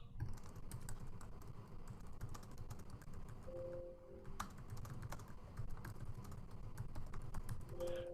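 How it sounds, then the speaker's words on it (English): Steady, loud clatter of computer keyboard typing runs throughout, with rapid irregular keystrokes over a low background hum and no voices. "I hear some loud typing"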